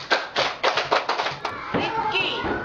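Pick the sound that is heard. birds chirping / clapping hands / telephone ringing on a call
clapping hands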